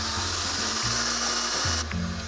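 An electric mixer whips eggs and sugar for a pistachio cake, its motor humming close and steady with a few brief shifts in pitch as the beaters move through the batter.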